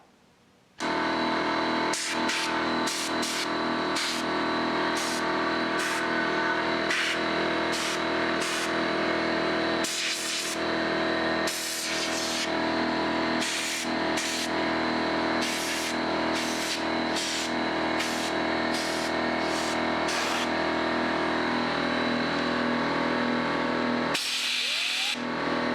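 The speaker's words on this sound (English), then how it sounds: "give it a quick blast with the compressor" Compressed air from a compressor blasts through an amplifier to clean it outdoors in a backyard, coming as loud, steady hissing bursts in repeated short and long pulses, with no talk.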